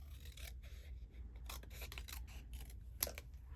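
Scissors slicing through a piece of plain white card stock, a series of close, crisp snips and rasping cuts spaced across a few seconds, with a sharper snap near the end.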